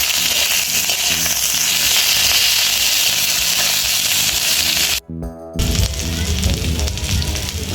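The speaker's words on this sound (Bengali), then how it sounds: "এর মধ্যে আমি কাঁচা আমগুলো দিয়ে ভালো করে ভেজে নেব।" Raw mango pieces fry in a hot pan with a loud, dense sizzle and hiss under a low background tone, cutting out briefly near the end before resuming.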